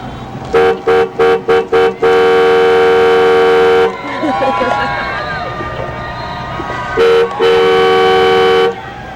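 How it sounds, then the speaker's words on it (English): Car horns honking loudly at a G8 summit protest in Kananaskis, Alberta: a rapid series of short toots, then long sustained blasts, a pause with street noise and voices, then more long honks. "honking the horn"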